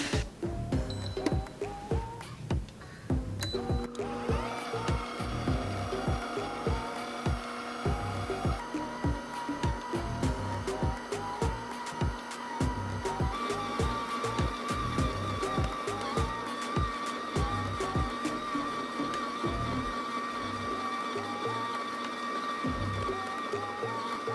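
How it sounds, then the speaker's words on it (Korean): A stand mixer kneads bread dough at low speed for a bushman bread bake, giving a steady motor whir with repeated rhythmic knocks and clatter from the bowl, close and continuous. "이제 스탠드 믹서를 이용해서 반죽을 해줄게요. 믹싱볼을 장착해주시고 저속으로 3분 정도 믹싱해주세요."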